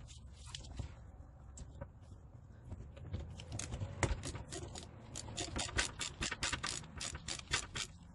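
A hand ratchet working a 12 mm bolt loose under a 2006 Acura TL during a water pump and timing belt job, starting as scattered clicks and building into rapid, close, repeated bursts of ratcheting.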